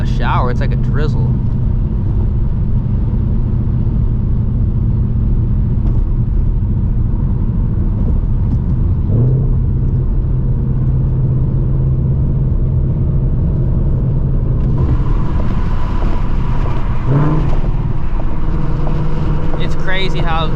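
A catless S650 Ford Mustang GT engine drones low and steady from inside the cabin while cruising through the city at night, with someone talking over it and a brief rise in revs near the end.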